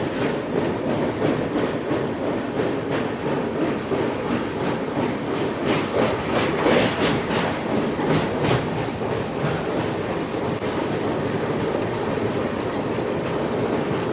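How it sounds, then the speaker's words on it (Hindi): The Guntur Secunderabad Express rushes past on the adjacent track, heard from aboard a moving express train near a small bridge before the Krishna River, with a continuous loud rumble and clatter of wheels throughout. "ट्रेन की क्रॉसिंग हो रही है, गुंटूर सिकंदराबाद एक्सप्रेस"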